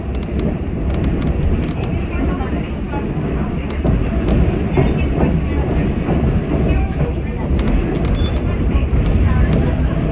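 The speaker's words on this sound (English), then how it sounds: "We're currently exiting the Metra Union Station on the BNSF line" Metra BNSF line commuter train leaving Chicago Union Station, a steady loud rumble of wheels and cabin noise heard from inside the car, with a voice talking over it throughout.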